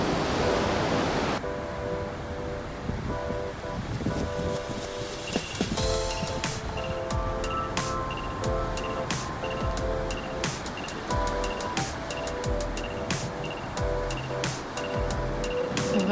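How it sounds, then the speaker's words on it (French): Ocean waves break on the beach at Ogunquit, Maine, a steady broad wash of surf with no talking, joined by faint high tonal sounds. "On relaxe sur la plage avec le bruit des vagues."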